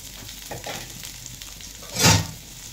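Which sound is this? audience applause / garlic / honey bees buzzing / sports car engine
garlic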